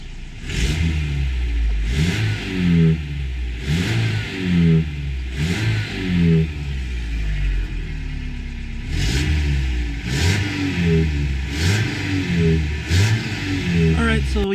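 Engine of an older Toyota pickup with about 160,000 miles, not fuel injected, running in repeated rev cycles: a loud, close mid-pitched drone that rises and falls roughly every second and a half, with a faint clattering layer underneath.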